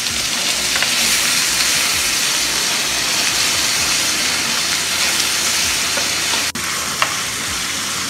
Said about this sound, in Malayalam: നല്ല ഹൈ ഹീറ്റിൽ വെച്ചിട്ട് തന്നെയാണ് നമ്മൾ ടൊമാറ്റോ കുക്ക് ചെയ്യുന്നത്.